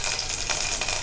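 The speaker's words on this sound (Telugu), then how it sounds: "ఇవి కొంచెం చిటపట్లాడేటప్పుడు కరివేపాకు కూడా వేసుకోవాలి." Cumin and mustard seeds splutter in hot oil with curry leaves for a South Indian tempering, giving a steady close sizzle with small crackling pops and no talk.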